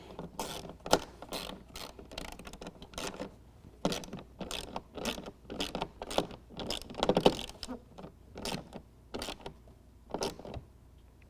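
Bolts are tightened on a DECKED truck bed storage system on a 2016 Toyota Tacoma with a ratcheting tool, making rapid, irregular clicking bursts close by with short pauses between strokes.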